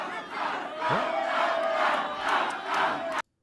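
A crowd cheers and chants together in rhythmic swells of shouting, with a rising whistle-like tone cutting through near the start before the noise stops abruptly.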